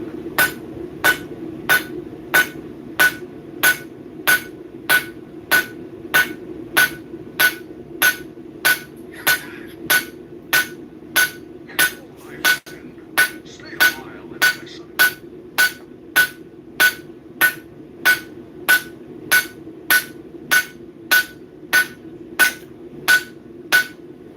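A blacksmith strikes hot stainless steel with a hammer, giving a long, very regular series of sharp ringing metallic blows about twice a second. They are close and loud, with a faint voice once in the middle.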